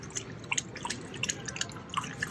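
A dog laps water in quick, irregular wet smacks and drips, close and fairly quiet, with no talking over it.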